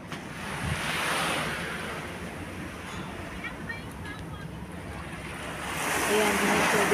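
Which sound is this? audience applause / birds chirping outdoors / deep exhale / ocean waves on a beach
ocean waves on a beach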